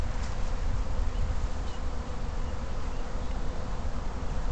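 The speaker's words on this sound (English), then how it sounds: "Looks like they're full swarming around the tree here again." A honey bee swarm circles a tree, producing a dense, continuous droning buzz that stays loud and steady throughout, with no voices.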